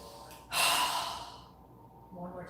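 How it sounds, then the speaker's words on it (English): A strong exhale pushed out through the mouth during a yoga breathing exercise, one forceful breath close to the mic that fades away, followed by a softer breath sound. "inhaling through our nose and exhaling with a strong breath through our mouth"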